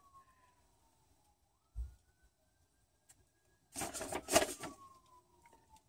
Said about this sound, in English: excuse the sirens in the background if y'all can hear that.